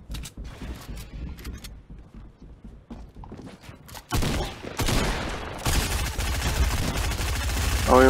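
SMG fire in Fortnite Chapter 2 Team Rumble, with quieter clicks and mechanical clatter building into a loud, sustained burst of rapid automatic gunfire, dense and continuous, with a voice briefly present.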